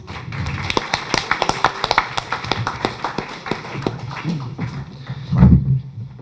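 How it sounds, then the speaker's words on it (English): A small audience applauds a guest being welcomed on stage at an evening event, the claps sparse and uneven rather than a dense roar, with a few voices and a low murmur joining near the end. "let's give him a round of applause"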